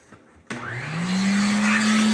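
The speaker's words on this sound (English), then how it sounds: "Now use the vacuum again." A household vacuum cleaner starts abruptly and spins up to a loud, steady whine as it sucks carpet cleaner spray out of carpet, close and alone.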